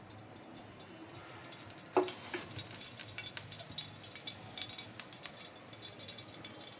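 Soft, steady sizzling crackle of onions and green chillies frying in oil in a pan on the stove, with a small clatter near the start and faint kitchen noises throughout.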